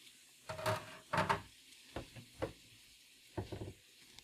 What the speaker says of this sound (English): We are browning the meat for beef stroganoff.